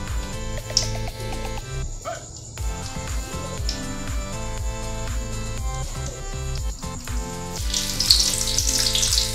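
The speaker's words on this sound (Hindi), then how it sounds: "तेल डाला जा चुका है, इसमें मिर्च डाल रहे हैं" Dried red chillies sizzle in hot oil in a home kitchen, a steady crackling fry that runs the whole time, with a few brief clinks and a louder flare of sizzle toward the end, under light background music.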